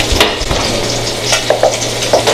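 Brussels sprouts with bacon sizzle steadily under a 500-degree broiler, a constant close frying hiss with small crackles and a few light pops throughout, no voices.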